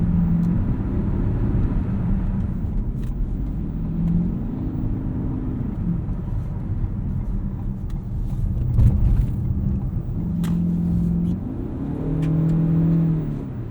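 A 2020 Ford Escape Hybrid SE Sport AWD with a 2.5-liter engine is driven, its throaty engine note rising and falling through repeated accelerations, a steady close rumble with no talk.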